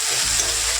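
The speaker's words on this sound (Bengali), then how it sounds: "একটুখানি আলু ভাজা বসিয়ে দিয়েছি" Sliced potatoes fry in oil in a pan on a home gas stove, giving a steady, dense sizzle that holds at an even, fairly loud level without pauses.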